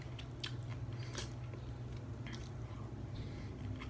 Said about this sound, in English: That crunch from like the skin.